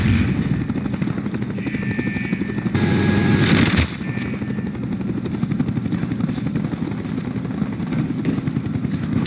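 Attack helicopter rotor noise from Call of Duty Black Ops multiplayer, a steady loud thrum with bursts of game gunfire and a sharp blast of explosive noise midway, continuing throughout.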